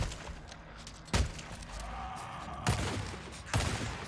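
Three sharp gunshots ring out in Days Gone, spaced about a second apart over a low rumbling game backdrop, each with a heavy thumping punch.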